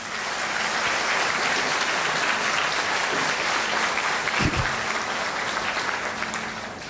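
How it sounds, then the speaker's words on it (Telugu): An audience at a motivational talk on networking claps loudly and continuously. The dense, even wash of applause is close and unbroken, with only a small bump near the end. "గట్టిగా చప్పట్లో చూడు."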